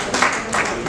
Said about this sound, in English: I would like my friends to clap for her for 25 years of association.